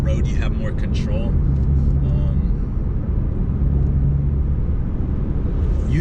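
A 2005-2009 Ford Mustang rides on a cheap SR coilover suspension kit, giving a constant low, heavy road and engine rumble from inside the cabin that holds steady throughout, with a brief voice near the start.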